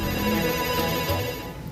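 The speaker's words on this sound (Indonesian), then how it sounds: "Nah, ada telepon masuk nih." A phone ringtone sounds for an incoming call, a short steady electronic tone with a sustained, busy texture, heard alone without talk.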